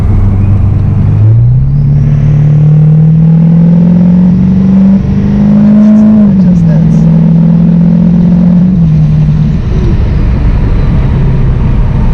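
A Duramax LML diesel pickup truck accelerating hard, heard from inside the cab: a loud, steady engine drone that climbs in pitch, dips briefly as the load shifts, then carries on through the whole stretch.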